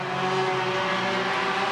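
Race cars roaring around an oval track on the final lap, with a steady, loud engine drone that holds without a break.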